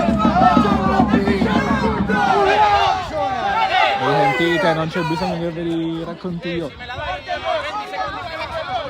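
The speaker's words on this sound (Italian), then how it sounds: "Questi sono i tifosi del Montelepre che non ci stanno ovviamente con questa decisione arbitrale" Montelepre football supporters at an Eccellenza Sicilia match against San Vito Lo Capo protest a referee's decision, a steady crowd roar and chanting from the stands running under continuous close commentary.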